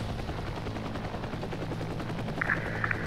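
Helicopter gunfire and mortar impacts in the combat game Heliborne, a steady dense barrage of low rumbling blasts and rapid shots with a brief brighter burst near the end, no voices.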